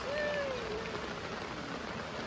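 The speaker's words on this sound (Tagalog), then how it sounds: "Maulan, ang lakas ng patak ng ulan." Heavy rain falling at a campsite, a dense, continuous hiss of drops pattering on surfaces nearby, steady and loud, with a brief faint tonal whistle early on and no talking.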